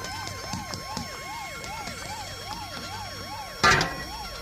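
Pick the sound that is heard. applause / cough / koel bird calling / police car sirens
police car sirens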